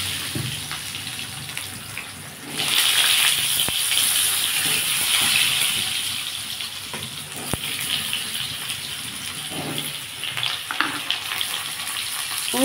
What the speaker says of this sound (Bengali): আমি আলুগুলো এর সাথেই ভেজে নেব।